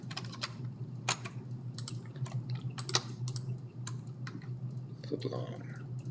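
Computer keyboard keys clicking in quick irregular bursts of shortcut presses during work in SketchUp, crisp and close, with a steady low hum underneath.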